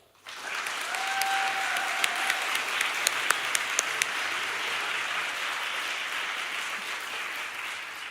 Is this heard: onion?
no